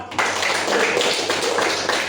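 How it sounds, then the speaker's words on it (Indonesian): A classroom of students claps their hands together in a steady, dense burst of applause that fills the room, continuing evenly for about two seconds after a brief start. "tepuk tangan dulu kita semua"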